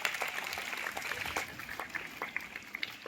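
Applause from a school audience at an Independence Day celebration welcoming the school director, a steady crackle of many hands clapping throughout, moderately loud and continuous.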